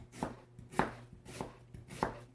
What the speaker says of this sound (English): I'm gonna chop our onions kind of small.